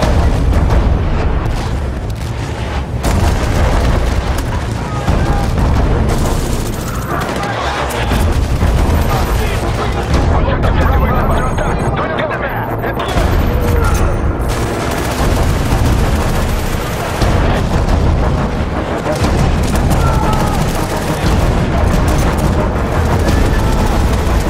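Mortar artillery barrage in Battlefield Bad Company 2, a dense, nonstop roll of heavy booms and crackling gunfire that stays loud and close throughout.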